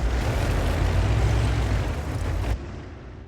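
Distant tank gun fire in World of Tanks, a loud rumbling blast that rolls on for a couple of seconds before cutting off sharply into quieter background.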